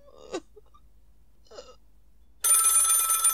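A telephone bell in a radio drama rings loudly and continuously near the end, following a couple of faint breathy gasps or whimpers in an otherwise quiet room.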